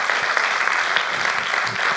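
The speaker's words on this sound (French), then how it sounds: "on l'applaudit très fort parce qu'il vient de Chine" A crowd at the Concours Mondial d'Éloquence final at Le 104 in Paris claps in a dense, continuous burst of applause, loud and steady for the whole moment with no voices on top.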